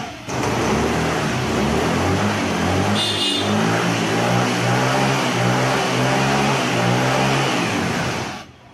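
A car engine catches and runs after being push-started, revving steadily with a rhythmic pulsing throb that holds loud and close for several seconds before cutting off.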